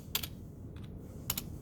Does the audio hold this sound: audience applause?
no